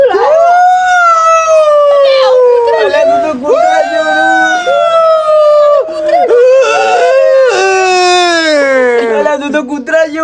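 A voice imitates a dog howling and crying in a long, wavering, high-pitched wail. It rises and falls almost nonstop for about ten seconds, loud and close, with short breaks between the swells.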